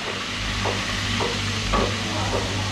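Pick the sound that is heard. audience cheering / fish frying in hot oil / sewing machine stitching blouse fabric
fish frying in hot oil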